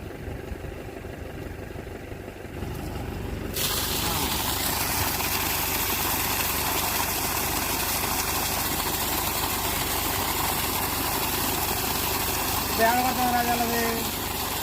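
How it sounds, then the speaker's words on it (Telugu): A submersible water pump motor lowered about 110 feet into a borewell beside a paddy field starts up and keeps running with a steady, continuous hum that holds level and fairly loud for most of the stretch. "ఇప్పుడు ఒకసారి మోటార్ రన్ చేసి చూద్దాం."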